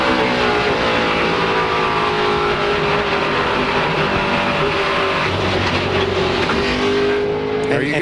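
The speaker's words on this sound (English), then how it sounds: "You want to know what it sounds like to blow up an engine?" A race car engine blows on track during a 2004 Siemens 300 race, heard as a loud, sustained onboard engine roar with a dense, gritty drone that stays strong throughout, under faint commentary.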